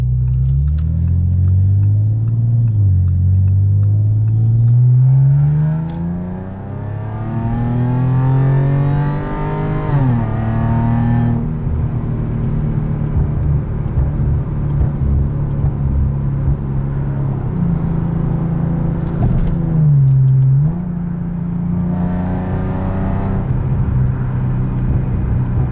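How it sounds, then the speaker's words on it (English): A 2012 Audi A7 engine fitted with an aftermarket intake and exhaust revs up and settles repeatedly, its deep rumble rising and falling in long loud sweeps heard from close by. "I heard the intake, I heard the exhaust, and an intake with forced induction makes a world of a difference"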